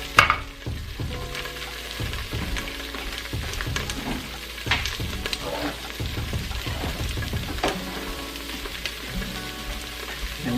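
Chopped onion sautéing in olive oil inside an Instant Pot, with a close, steady sizzle broken by clattering spoon stirs and scrapes against the pot, and no voices.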